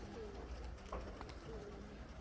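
Pigeons kept by a neighbour cooing on a nearby rooftop, soft low coos repeating a few times at moderate distance over steady outdoor background noise.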